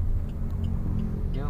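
Car engine revving in second gear during a beginner driving lesson, a steady low rumble held close throughout, with a voice talking over it.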